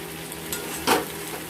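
Water poured into fried spice paste in a pan, giving a quick burst of sizzle and hiss against soft stirring and light scraping.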